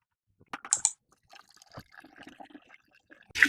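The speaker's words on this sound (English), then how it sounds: "Pour some of this water out into there. That's my compost tea that I made earlier." Compost tea is poured into a bucket in a few brief splashes and trickles of liquid, close by and quiet, with a louder gush right at the end.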